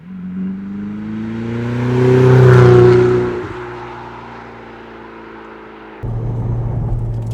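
A 2018 Ferrari 488 Spider 70th Anniversary mid-engine car accelerating, engine note climbing to a loud peak then easing off as it drives past, before a steady close-up rumble resumes.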